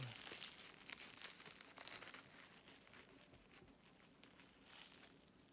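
Shrink wrap is cut and crinkled off the base of a Japanese black pine bonsai, a faint, close, continuous plastic crackling and rustling.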